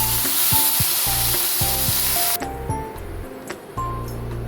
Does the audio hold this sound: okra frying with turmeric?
yes